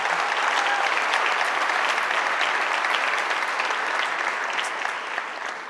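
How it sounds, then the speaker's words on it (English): A crowd gives a loud, sustained round of applause for a building crew at the Anderson Student Center opening, dense even clapping filling the whole stretch and easing slightly at the end. "Let's give them a round of applause also."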